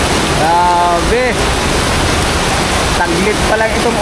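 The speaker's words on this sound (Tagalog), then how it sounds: "Taglit pa lang itong ulan na to" Heavy rain pours onto a flooded street along Taft Avenue and Pedro Gil in Manila, a loud continuous broadband wash throughout, with brief horn-like tonal sounds and voices cutting in near the start and end.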